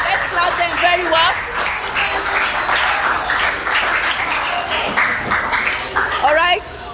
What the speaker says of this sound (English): Let's clap them very well.